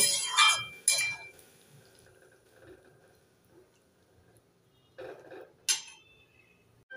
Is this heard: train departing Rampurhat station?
no